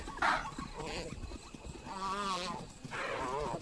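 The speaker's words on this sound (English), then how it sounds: "The chaser can hear the desperate bleat of a topi." A topi antelope at night, giving a few desperate, wavering bleats, close and fairly loud, the middle call drawn out and quavering, with rustling and scuffling around them.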